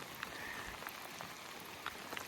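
Steady rain falls in a wooded creek bottom during a blacktail deer hunt in Southwest Washington, a dense even hiss with scattered close drops pattering on a nearby surface, no voices.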